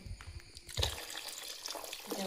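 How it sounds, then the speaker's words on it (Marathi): Water pours steadily into a cooking pot in a Konkan home kitchen during the monsoon, a continuous close splashing rush that begins abruptly after a brief moment of low voice. "पाणी तर ओतून झाला."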